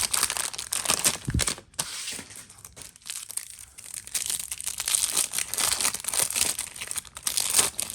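Foil wrappers of 2006-07 Topps basketball rak packs are ripped open in a steady, close, loud stream of crinkling and tearing that runs almost without a break.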